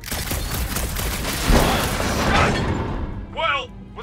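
Gunfire in the video game Guardians of the Galaxy, a dense booming burst of shots and rumbling blasts that swells, peaks and fades, heavily layered with game music and effects.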